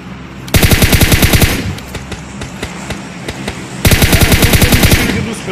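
Two long bursts of rapid automatic gunfire from buildings in a video game, loud and close, separated by a stretch of scattered single shots.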